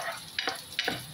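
Garlic and onion sauté in a pan while cooking ginisang sayote with smoked fish. Two quick stirring scrapes cut through a quiet, steady sizzle.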